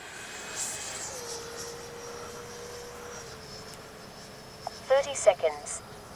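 A Freewing T-33 80mm RC model jet whines steadily in flight, faint and far off over open-air hiss, with a voice breaking in briefly near the end.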